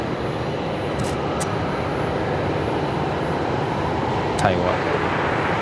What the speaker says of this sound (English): Jetstar 573, we can hear it there rolling.